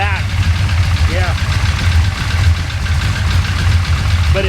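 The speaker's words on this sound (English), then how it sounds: "I got the idle turned all the way down." A 1966 Chevy Impala's 427 V8 engine idles low and steady after sitting 20 years, a deep throbbing rumble close by, with a brief voice at the start and end.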